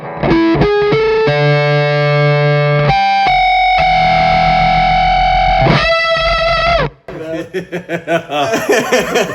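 Electric guitar through a Cornford Hellcat amp with delay makes loud distorted noises: plucked notes, sustained tones, a pitch-bending swoop, then choppy warbling repeats fading and pulsing, with a little laughter mixed in.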